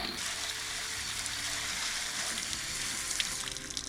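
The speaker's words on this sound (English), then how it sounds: "we're just going to give them a quick little rinse off with some water" Water runs over a white-tailed deer skull being rinsed, a steady broadband hiss and splash that stays even and close throughout.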